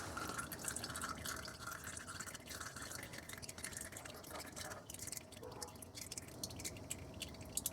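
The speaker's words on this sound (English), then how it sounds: "after it's done draining, we'll inspect the fluid real quick before we refill it" Transfer case fluid drains from a GM truck's NP241-C transfer case, a faint, continuous trickle with scattered drips, steady throughout with no talking.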